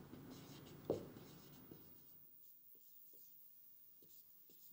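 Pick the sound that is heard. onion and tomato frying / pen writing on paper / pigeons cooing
pen writing on paper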